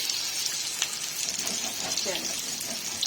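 Pieces of Rahu fish fry in oil in a pan, giving a steady, close crackling hiss that continues without a break for the whole stretch.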